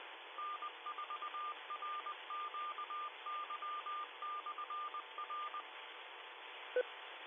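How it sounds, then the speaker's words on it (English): Amateur radio repeater tones over a faint hiss: a long run of short, evenly keyed beeps in a steady stuttering pattern, a pause, then a single brief courtesy beep near the end. "There is a courtesy beep on this repeater, so please wait for the beep"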